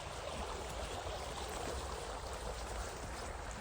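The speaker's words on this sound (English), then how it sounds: "Just love the sound of water." Water flows steadily in a stream, a constant broadband rushing and burbling heard close with no other sounds.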